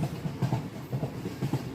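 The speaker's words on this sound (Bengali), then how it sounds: "ট্রেন ততক্ষণে আবার চলতে শুরু করেছে" A train rolls along the rails with a rhythmic clickety-clack of wheels over track joints, steady and fairly close.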